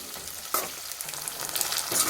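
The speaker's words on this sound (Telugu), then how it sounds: "పచ్చిమిర్చి మంచిగా వేసి వేపుకోవాలి" Green chillies and curry leaves sputtering in hot oil for a bean and tomato curry, a quiet continuous sizzle with soft pops and a couple of stirring scrapes.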